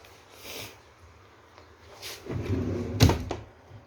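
Drawers in a cluttered room being pulled open and rummaged through, with soft scrapes and thuds building to a louder bump near the end, heard close up without talk.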